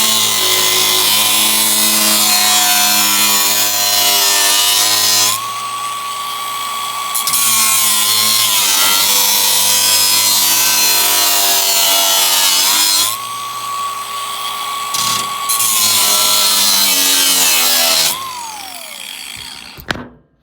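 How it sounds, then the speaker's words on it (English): An abrasive cutoff wheel grinds steadily through steel for a budget flatbed build, a loud, continuous high whine broken by short pauses where the tool lifts off and spins back in, ending as the wheel winds down. "if you're not used to cutting with a cutoff wheel, besides just tacking it on here and just trying to run it straight through, you could take and just kind of score it gently"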